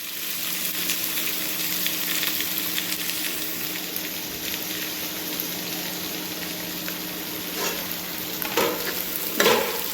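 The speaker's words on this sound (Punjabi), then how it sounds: "ਚੰਗੀ ਤਰ੍ਹਾਂ ਹਿਲਾ ਲਾਂਗੇ ਵੇਟ ਕਰਦੇ ਆ ਆਪਾਂ ਹੁਣ ਪਿਆਜ਼ ਨੂੰ ਲਾਈਟ ਬ੍ਰਾਊਨ ਹੋਣ ਦਾ" Onions frying in a pan for an aloo paneer bhurji, a steady close sizzle throughout with occasional stirring scrapes growing more noticeable toward the end, and no voices.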